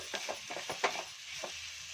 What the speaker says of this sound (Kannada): ಇವಾಗ ಒಂದೆರಡು ನಿಮಿಷ ಇದನ್ನ ಫ್ರೈ ಮಾಡ್ಕೊತೀನಿ